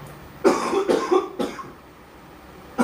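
Several close, sharp human coughs in quick succession from a streamer on a live broadcast, followed by a quiet pause and one more cough starting at the end.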